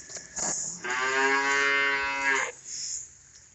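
A heifer gives one long, loud, close moo lasting nearly two seconds, preceded by faint farmyard shuffling and followed by quiet background noise.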